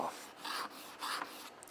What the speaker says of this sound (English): Just quickly get the bevel off.